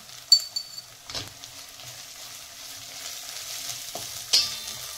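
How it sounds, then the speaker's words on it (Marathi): Ginger garlic paste frying with turmeric and red Byadgi chilli powder in a pan gives a quiet, even sizzle, broken by a few sharp clinks of a spoon against the pan. "हे बघा आपला अद्रक लसूण पेस्ट फ्राय झाले।"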